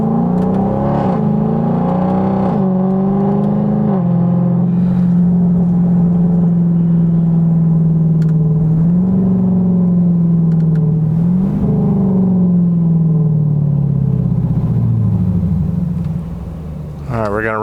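A deep, loud drone from a straight-piped Dodge Durango R/T V8 fills the cabin continuously with windows up, rising and falling slightly with the throttle, heavy low rumble throughout.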